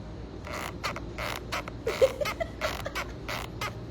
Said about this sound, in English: even this holster, it makes so much noise